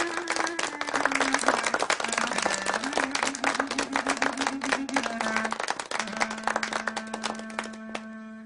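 Enthusiastic audience applause greeting a classical Turkish music diva as she takes the stage in a film, dense clapping over a sustained instrumental tone that shifts pitch, steady and fairly loud throughout.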